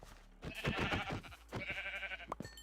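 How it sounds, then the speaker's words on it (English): Two drawn-out, wavering bleats from a Minecraft sheep, the first longer and the second following after a short pause, with soft game ambience in between. "Oh, more sheep."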